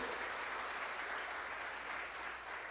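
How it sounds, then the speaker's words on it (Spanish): Church congregation applause during a Spanish-language sermon, a continuous, even roar of many hands clapping that stays steady and fairly distant. "Denle un aplauso al Señor por eso."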